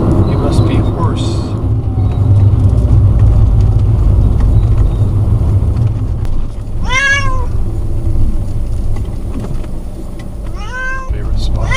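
Two cats meow from cages inside a small Fiat 500 tow car on the way to the vet, with harmonic cries near 7 and 11 seconds over a steady loud road and engine rumble.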